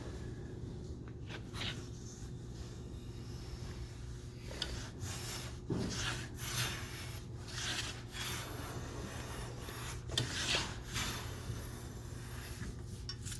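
Hand plane or edge tool cutting the gain on wooden lapstrake boat planking, giving soft, irregular rasping strokes that come and go at a steady, moderate level with a low hum beneath.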